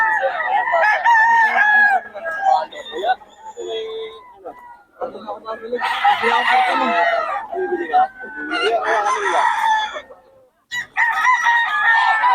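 Several roosters crow loudly and repeatedly nearby at a poultry seller in Bocaue, with clucking between calls and a person talking over them.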